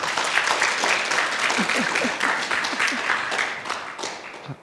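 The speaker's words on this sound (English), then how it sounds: "can we give Sister Vinitha another round of applause?" An audience applauds after a talk on plant-based diet, close, lively clapping that holds steady, then thins out near the end, with a few voices faintly underneath.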